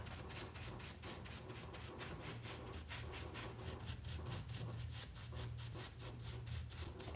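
A brush rubs furniture wax into a wooden surface with soft, rhythmic back-and-forth scrubbing strokes, faint and close, with no talking.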